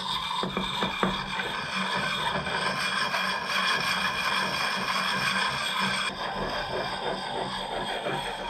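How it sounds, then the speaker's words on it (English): Axe blade being sharpened by hand at a log cabin, a close, continuous rasping scrape of file on steel with repeated strokes, steady and fairly loud throughout. "I'm sharpening my axe here."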